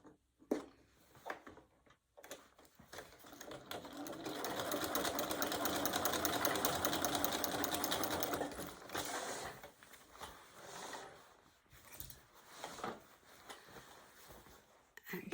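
A sewing machine runs in a sustained, whirring stitching burst of several seconds, fairly close, framed by shorter starts and stops with clicks and handling noise.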